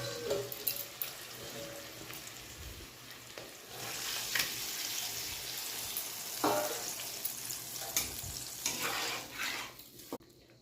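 Tangra fish go into a pan of spiced frying masala and sizzle and crackle steadily, with stirring and scraping noises close by over a continuous hiss.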